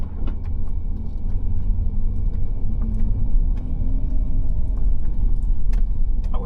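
A vehicle rumbles steadily along a storm-damaged county road four days after an ice storm, with a continuous low engine and tire roar and occasional clicks and rattles.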